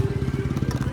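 A Hero Splendor Plus motorcycle engine with a fault idles close by, its low thudding pulses coming in a slightly irregular, unsteady rhythm.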